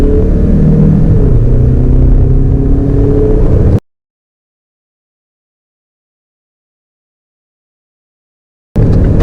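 A Mazda CX-5 2.2 diesel FWD accelerates at full throttle, a loud close cabin drone and engine rumble that cuts off abruptly partway, followed by silence before briefly resuming.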